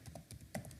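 A few crisp computer keyboard key presses, the last a firmer tap like the enter key, close and fairly quiet in a short burst with no talking.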